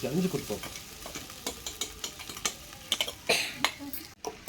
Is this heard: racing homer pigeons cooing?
no